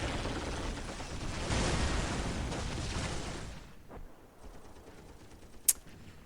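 Gunfire rattles in the Dawn of War strategy video game. A dense, noisy burst of shots and battle din carries on for a few seconds, then fades, leaving one sharp crack near the end.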